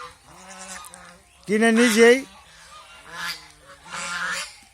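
Farm geese honk in several loud, nasal bursts, the strongest a long call in the middle, with a few quieter honks around it and a brief voice speaking nearby.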